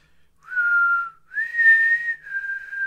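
A person whistles three sustained, steady notes in a row, the middle one slightly higher and longest, close to the microphone with no talking.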